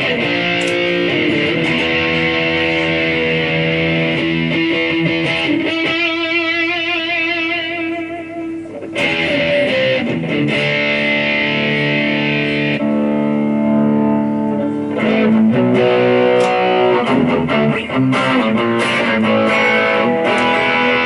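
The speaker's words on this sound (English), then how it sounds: "some of the best distortion or crunch sounds that I've ever got out of a little box" Distorted electric guitar chords with a crunchy, driven tone from a small Roland amp, played continuously with some shifts in texture and brief swirling modulation in the middle.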